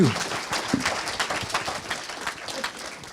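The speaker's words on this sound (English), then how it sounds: "everyone please give Brad a round of applause" Audience at a startup book launch session in Las Vegas applauding, scattered claps forming a moderate, slightly uneven patter that gradually thins out.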